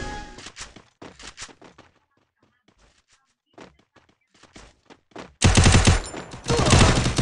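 Video game guns fire in rapid bursts, first in short close volleys, then after a quiet stretch a dense, loud sustained stream of automatic gunfire, with a voice speaking faintly between shots.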